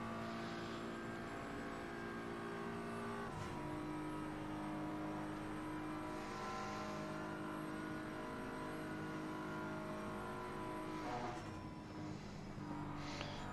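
A BMW race car in Assetto Corsa Competizione at Paul Ricard, its engine holding a steady high-pitched drone with a gear shift partway through and a tonal change near the end, loud and continuous with no talking.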